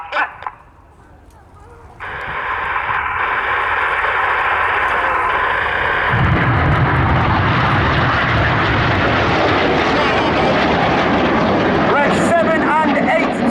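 Red Arrows BAE Hawk T1 jets in a flying display at RIAT 2024 roar overhead, a brief quiet giving way to a loud, sustained, swelling jet engine rush that fills the rest of the clip.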